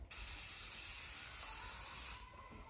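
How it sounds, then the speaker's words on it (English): Hairspray is sprayed onto hair from an aerosol can while a high ponytail is styled, one continuous close hiss lasting about two seconds, then it cuts off into quiet. "And then you're going to give it a spray"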